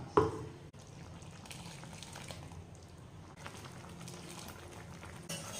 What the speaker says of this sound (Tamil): இப்போ இந்த தேங்காவை நம்ம குழம்புல ஊற்றிக்கலாம்.